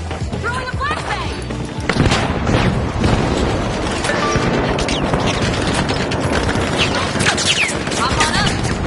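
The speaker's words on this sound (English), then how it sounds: "Throwing a flashbang!" A flashbang grenade goes off in the Riot video game, amid continuous loud gunfire-like bursts and booms, with game chatter running throughout.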